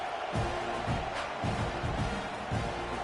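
A stadium crowd at the Auburn vs Texas A&M college football game murmurs in a broad, steady roar, subdued and distant, with scattered thumps underneath.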